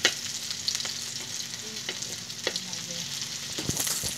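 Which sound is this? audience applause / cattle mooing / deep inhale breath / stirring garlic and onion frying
stirring garlic and onion frying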